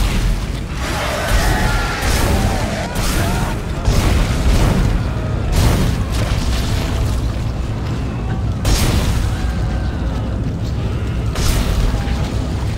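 Explosive barrel blowing up in the video game Dead Space 2, deep heavy booms and crashes layered over continuous loud game sound with low rumble throughout.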